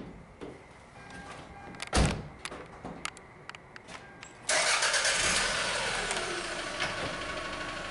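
Engine of a 1996 Toyota Camry with a 4-cylinder, just after a head gasket repair: a few clicks and a door thud, then the starter cranks and the engine catches into a steady idle, close by.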